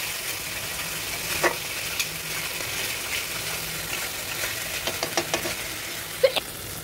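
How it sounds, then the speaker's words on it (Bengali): Masala frying in oil while being stirred, a steady soft sizzle with faint scraping and occasional small pops, close but fairly quiet. "মশলাটা আমরা কষিয়ে নিচ্ছি সুন্দর করে।"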